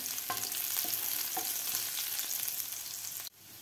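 Finely chopped green chillies frying in oil for sabudana khichdi give off a steady, close sizzle with light stirring scrapes, then cut off abruptly near the end.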